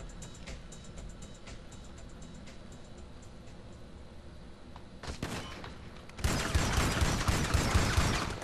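Gunfire in a deathmatch video game: a low steady rumble, then a sharp burst of shots and a loud, dense stretch of continuous firing near the end.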